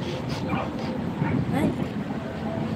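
A dog gives a few short, yelping barks scattered through steady nearby chatter and background noise.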